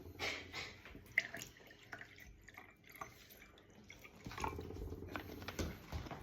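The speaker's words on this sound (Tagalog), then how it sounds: "isasalin nyo yung tubig sa baso." Water pours into a glass as a faint, soft trickle with light drips, quiet and close, with no talking.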